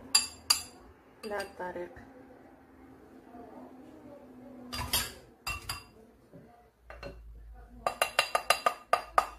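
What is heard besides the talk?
small spoon clinking against a glass while layering whipped cream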